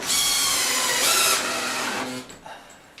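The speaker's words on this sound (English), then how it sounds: "put a couple of small, just little 3/4 inch wood screws in here just to hold it in place" Power driver sinking small 3/4 inch wood screws into a bracket, a loud steady whirring motor close up that slows and winds down near the end, with no voices.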